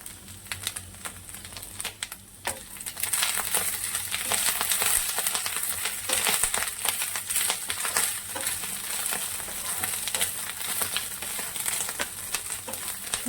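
Young drumstick (sajne) leaves frying in hot oil, a steady loud crackle and sizzle that swells a few seconds in and keeps up without voices.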